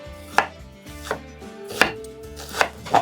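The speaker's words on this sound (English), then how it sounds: "is to finely cut 1 onion" A new kitchen knife chops an onion finely on a board, giving four or five crisp, evenly spaced thuds with quiet gaps between them, close and alone.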